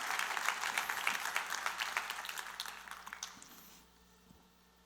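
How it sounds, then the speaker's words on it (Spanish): A church congregation applauds during a sermon, a dense wash of clapping that is moderately loud, fades toward the end, and finishes with a few scattered claps. "Dale un aplauso bien fuerte al Rey, por favor."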